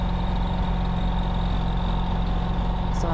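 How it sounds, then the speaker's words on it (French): A car engine idling while it warms up on a cold start, a steady low rumble with a constant hum, close and unbroken, with no voices over it. "on va laisser chauffer le moteur"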